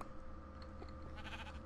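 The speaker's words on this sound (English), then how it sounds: "How the fuck is there a sheep down here?" A sheep in Minecraft bleats faintly in a quiet underground cave, a short wavering cry over low background hum.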